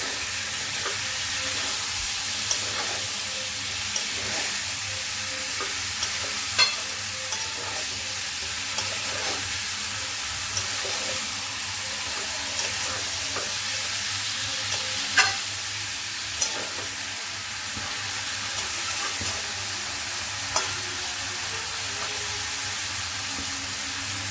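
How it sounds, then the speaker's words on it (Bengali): Raw jackfruit being stir-fried with spices in a pan for a Bengali prawn curry: a steady sizzle with occasional scraping clicks of a spatula, close and continuous with no talking. "মশলার সাথে একবারে কষিয়ে দেবো ভালো করে।"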